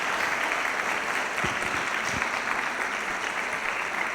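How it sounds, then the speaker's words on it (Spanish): Audience applause at the close of a lecture at a young researchers' congress, steady and even clapping from a room full of people, lasting several seconds without speech. "un aplauso, por favor"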